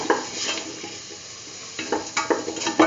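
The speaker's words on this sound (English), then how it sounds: "mix the lemon juice with the rest of the mixture" Spoon stirring lemon juice into a curried beetroot and mung bean stew in a pot, producing soft scraping and clinking strokes in irregular bursts, with a light sizzle and no talking.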